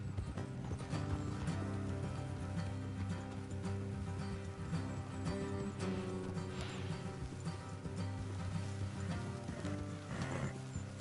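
Horses clip-clopping along at a steady pace with an occasional whinny, ridden in Red Dead Redemption 2, heard close and continuous over a dense bed of game music.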